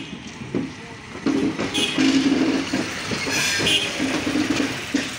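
A Padma, Silk City or Dhumketu intercity express rolls into Saidpur station with a loud, steady rumble of wagons, rhythmic wheel clatter and a few squeals from the wheels.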